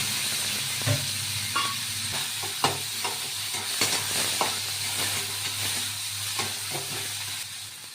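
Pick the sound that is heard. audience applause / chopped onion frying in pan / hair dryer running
chopped onion frying in pan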